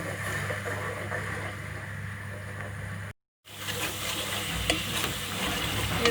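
Sliced onions frying in hot oil until golden as the base for a fish curry, a steady close sizzle with faint stirring scrapes, broken by a short total dropout midway before the frying resumes, with no talking.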